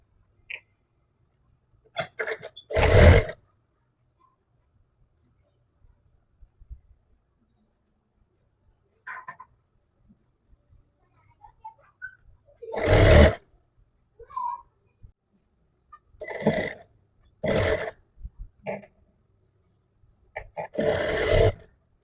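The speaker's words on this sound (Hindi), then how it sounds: "इस पर अपना ये जो बाजू वाला कपड़ा है इसको भी सीधा रखते हुए ऐसे इसमें सिलाई लगाएंगे" Sewing machine stitching a sleeve strip onto fabric, short bursts of whirring needle runs separated by long quiet pauses with small clicks and handling noises.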